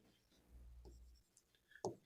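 Chalk or a marker scratches briefly across a classroom board in a few short, faint strokes with soft taps, during a Hindi lesson.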